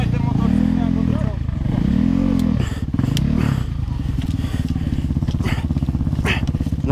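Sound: enduro motorcycle being pushed uphill in a forest

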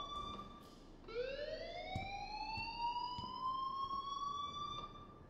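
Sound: fire alarm ringing in Life Is Strange video game

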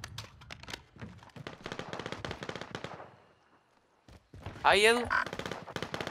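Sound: gunfire in Call of Duty Warzone video game

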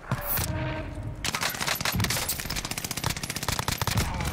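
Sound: Cooper Carbine gunfire in a video game

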